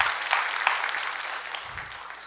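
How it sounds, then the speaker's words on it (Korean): A church congregation applauds together during a Wednesday worship service, a steady wash of clapping with no voices over it that eases off slightly toward the end. "우리 박수 한번 하시겠습니다."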